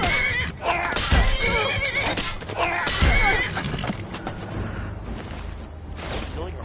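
A horse whinnies loudly twice in quick succession amid a busy mix of clattering and whooshing effects in the video game Skyrim.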